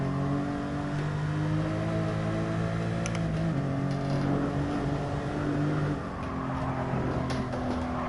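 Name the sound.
Porsche race car engine in video game Gran Turismo Sport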